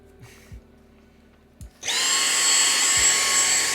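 A small handheld vacuum cleaner kicks on after a couple of quiet knocks and runs steadily at close range, a loud, even whine that holds to the end.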